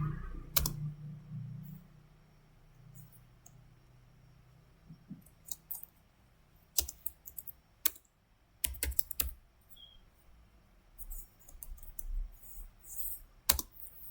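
Fingers typing HTML code on a computer keyboard in a quiet room, bursts of close clicking keystrokes and sharper key taps separated by short pauses.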